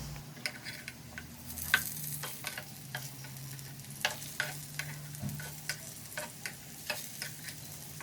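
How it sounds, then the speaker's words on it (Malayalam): Potatoes frying in a pan with a steady sizzle, punctuated by sharp clicks and scrapes of stirring at irregular intervals, close by and moderately loud. "ഞാനിതാ നമ്മുടെ പൊട്ടാറ്റോനെ ഫ്രൈ ചെയ്യാൻ വേണ്ടി വെച്ചേക്കാണ്"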